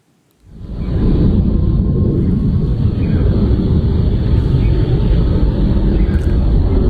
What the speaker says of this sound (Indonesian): Suara tembakan berasal dari pesawat tempur yang melintas di langit Irak.